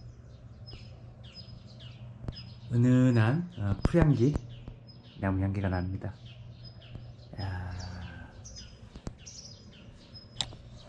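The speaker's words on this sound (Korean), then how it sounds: "이야, 새소리 들리고요" Thin high-pitched bird chirps repeat intermittently in the morning background at the Baekdudaegan arboretum, while a person speaks in bursts close by.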